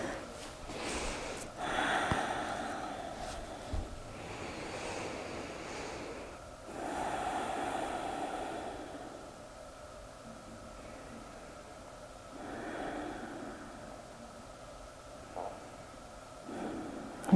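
Slow, deep breaths during a yoga rest pause, long soft airy inhales and exhales each lasting a couple of seconds, close and gentle over a quiet background hiss.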